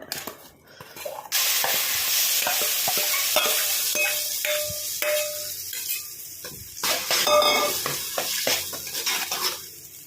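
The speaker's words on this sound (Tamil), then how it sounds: "அதே நெய்யில் இந்த பலாப்பழத்தை போட்டு நல்லா வதக்கி விடணுங்க. பச்சை வாடை போகிற வரைக்கும் வதக்கிடுவோம்." Jackfruit sautéed in ghee, loud close frying sizzle with a spoon scraping and clinking against the pan, intermittent stirring strokes, no voices.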